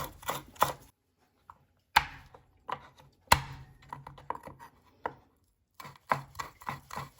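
Cilantro being finely chopped with a knife on a cutting board for tuna-potato patties, heard as sharp clustered knife taps in short bursts separated by pauses, close and fairly loud with no voice.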